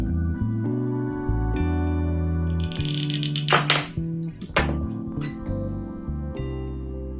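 A few sharp cracks and clinks of ceramic tile being snapped with tile nippers stand out over a steady humming background, with a short cluster of brittle snaps near the middle.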